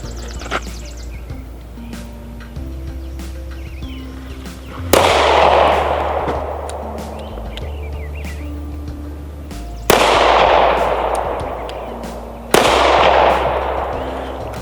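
Three loud, sharp Kel-Tec PR57 pistol shots ring out close by several seconds apart, each followed by a long decaying echo over a steady low background hum.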